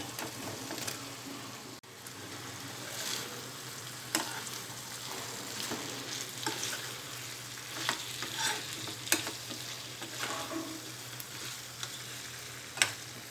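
Drumstick pieces simmer and sizzle in tomato in a pan, a soft, steady frying crackle with light stirring clicks and a low background hum, fairly quiet throughout.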